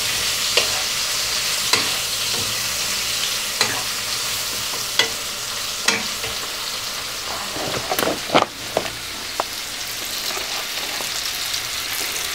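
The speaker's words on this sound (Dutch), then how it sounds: "Dan gaan we even roeren" Food is stirred in a pan: a constant frying sizzle carries a regular run of sharp scraping strokes about once a second, growing busier near the end, with no talking.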